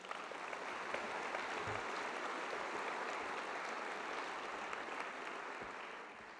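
Audience applause at the 2018 Cal Poly convocation, a dense, steady wash of many hands clapping from a large crowd, sustained evenly throughout without voices.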